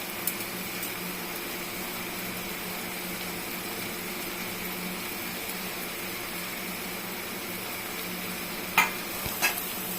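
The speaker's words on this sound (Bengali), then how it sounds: "দিয়ে এখন আরেকটু নাড়াচাড়া করব।" Taro leaf ghonto with peanuts being stirred and fried in a pan over raised heat, giving a steady soft sizzle with faint scraping throughout and a couple of sharp utensil clinks near the end.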